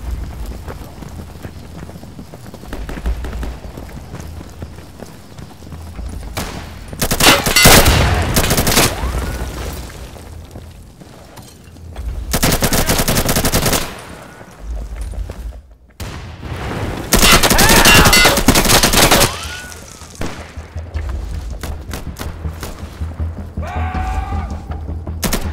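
Bursts of gunfire in the video game Insurgency during an ambush-mode match come in several loud, dense volleys separated by quieter stretches of game ambience and footsteps, with shots close and booming.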